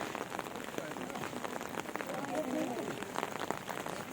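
Rain falls steadily on a surface at Jawahar Minar, Hirakud, Sambalpur, with scattered drops pattering, while people talk faintly in the background.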